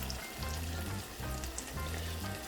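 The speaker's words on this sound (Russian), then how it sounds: "Еще обжариваем, потом накрываем крышечкой." Eggplant and other vegetables fry in a pan with a dense, continuous close sizzle and crackle, steady in level throughout, with no voices.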